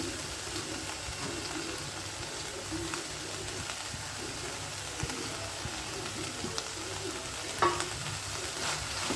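Chopped fenugreek leaves (mente soppu) frying in oil with cooked tomatoes for a South Indian Brahmin-style dish, giving a steady low sizzle with occasional stirring scrapes in the pan, close and fairly quiet throughout with no talking.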